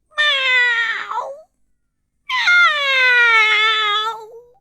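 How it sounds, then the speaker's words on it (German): A kitten meows plaintively in two drawn-out, wailing cries, a short one followed by a longer one after a brief pause, loud and close with nothing else around. "Und dort ist das Kätzchen aufgekrabbelt und hat jämmerlich angefangen zu brüllen."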